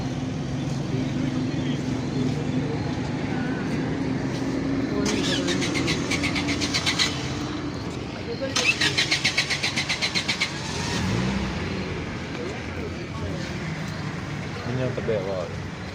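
A Toyota Hiace Grand Cabin van engine cranks and rumbles steadily, with rapid rattling bursts twice as it tries to catch, amid nearby chatter.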